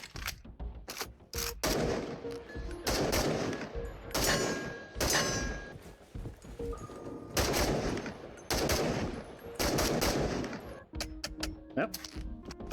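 Rapid bursts of FN-17 rifle gunfire in the virtual reality shooter Into the Radius, loud repeated volleys separated by brief pauses, with someone talking over parts of the shooting.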